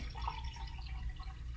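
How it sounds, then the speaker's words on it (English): Water poured into one of several glass jars lined up for a musical jar demonstration, a soft trickling and dripping splash over a low background rumble, close by, no talking. "we're going to add water to each one of these glasses"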